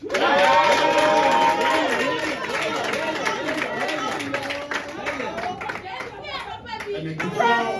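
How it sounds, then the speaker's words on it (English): Crowd at an NPP press conference in Ghana cheering and clapping loudly, a dense roar of voices with applause that stays strong throughout and swells again near the end. "A resounding and a thunderous applause."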